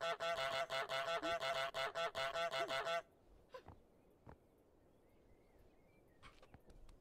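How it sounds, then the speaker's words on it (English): Goose from Untitled Goose Game honking in a rapid, loud series of repeated honks for about three seconds, then quiet game ambience with a few faint scattered sounds. "She's just gonna leave the goose in here?"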